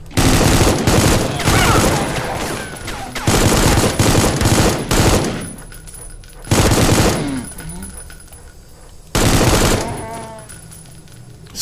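Loud, close bursts of automatic gunfire hammer toward the player in a first-person shooter, several long sustained volleys separated by brief pauses, with someone talking in between.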